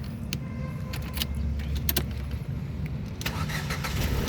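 A 2011 Ford Fiesta 1.6 Sport automatic being started: a key click and a brief cranking whir, then the engine catching and settling into a steady low idle that continues to the end.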